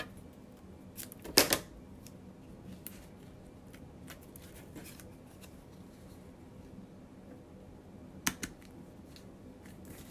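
Scissors trim paper for a stitched slider pocket treat holder, giving a couple of quiet, brief snipping bursts separated by long near-silent stretches.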